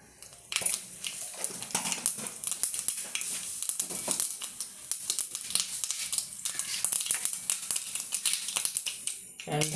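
Mustard seeds crackle and pop in hot oil for a tempering, a dense run of sharp close sizzling bursts that goes on throughout, with a voice speaking over it.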